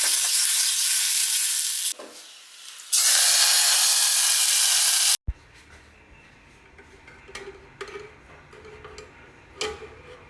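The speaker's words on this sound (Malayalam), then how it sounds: "ഇനി ഇതാ നമുക്ക് വെളിച്ചെണ്ണയിൽ നമുക്ക് വറുത്തിടാണ്ട്" Mustard seeds and dried chillies frying in coconut oil for a jackfruit curry, a loud steady sizzle broken by a short pause, then quieter crackling with scattered pops and ticks.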